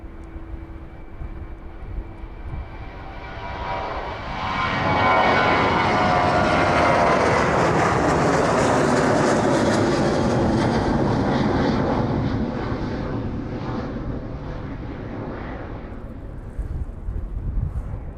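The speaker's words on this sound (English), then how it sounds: "The Jet 2 service rolling down runway 27 now. That one finally departing out to Palma." A Jet2 airliner takes off down runway 27 at East Midlands Airport, its engine roar swelling into a loud, broad rushing blast with rising and falling tones, then slowly fading into distance.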